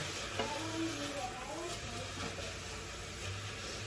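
French onion soup broth with mustard and French onion dip simmering in a pot, a steady sizzling hiss with faint stirring scrapes and a low background hum.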